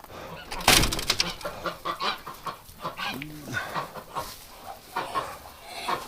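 Muscovy ducks in a barn make a run of close, soft hisses, huffs and clucky calls, starting with a sharp burst and continuing in short uneven bursts.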